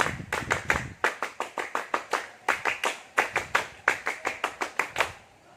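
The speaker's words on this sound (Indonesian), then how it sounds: "2 kali tepuk pramuka." A group of Scouts (Pramuka) performs the rhythmic Scout clap twice, sharp unison hand claps in quick fixed patterns with short pauses between phrases, close and clear with no talking.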